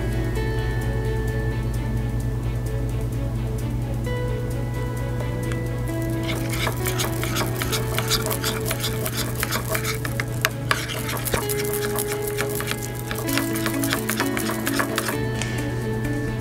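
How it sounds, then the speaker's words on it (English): Heavy cream being stirred into melted white chocolate for an Oreo ganache, soft continuous scraping and clinking of utensil against bowl close by, with a steady hum underneath and no speech. "Mix the heavy cream with the melted white chocolate."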